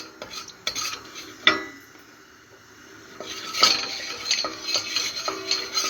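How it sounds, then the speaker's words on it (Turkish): Salt being stirred with a utensil in hot oil in a pan before popping corn, with repeated scraping and clinking strokes against the metal and a faint sizzle, close and without talk. "yağ iyice kızışıncaya kadar arkadaşlar şöyle karıştıracağız tuzumuzu"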